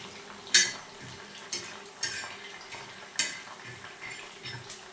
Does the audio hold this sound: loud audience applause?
no